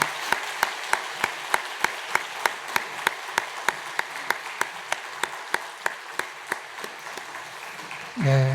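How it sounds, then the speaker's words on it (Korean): A church congregation claps during a Sunday worship service, a slow, regular beat of single claps evenly spaced for several seconds before a voice starts at the end. "우리 인사할 때 큰 박수로 축복하시겠습니다."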